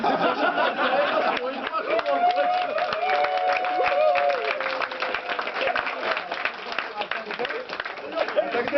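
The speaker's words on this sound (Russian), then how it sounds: "За что хлопаем?" Audience clapping at a developers' hackathon contest, dense and steady applause from a crowd filling the room, with someone talking over it.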